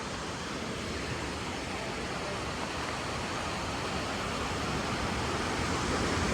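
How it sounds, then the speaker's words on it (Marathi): Strongly rushing river water near Kedarnath, a dense, loud, unbroken roar that holds steady and close throughout without speech. "आज खूप जोरात पाणी आहे"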